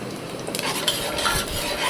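Tomato rice mixture being stirred as it fries and bubbles in a pot, with scraping and clinking of a spoon against the metal amid a steady sizzle, close and fairly loud throughout.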